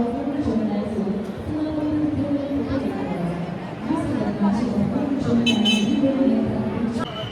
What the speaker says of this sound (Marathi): याने हॉर्न दिला मला.